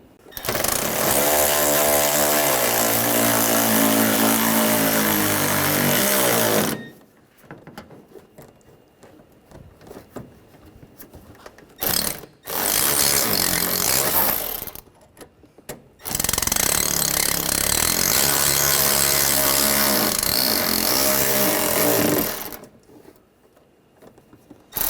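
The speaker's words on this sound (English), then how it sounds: "I'll put these bolts in." A power tool drives bolts into a fender panel on a Ford Escape, giving three loud, close bursts of buzzing whir separated by quiet gaps with small clicks and handling noise.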